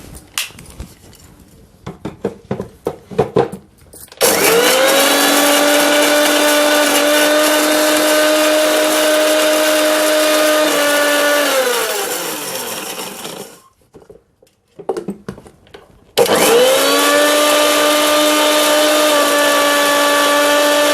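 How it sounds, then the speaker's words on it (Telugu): A kitchen mixer grinder grinds dried red chillies with salt for peanut chutney. Loud, steady motor whine runs in two long bursts, with rattling from the jar before, between, and after the runs as the motor spins down. "ముందుగా ఇది మనం మిక్సీ పట్టాలి ఎండుమిర్చి"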